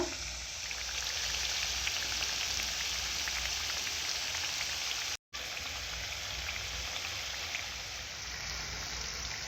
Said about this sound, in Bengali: এইভাবে ভালো করে ভেজে নেব